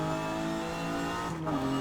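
Front-engine, rear-wheel-drive car with an upgraded stock engine driven in Forza Horizon 5, its engine droning steadily and loud with a revving rise near the end, tires faintly squealing.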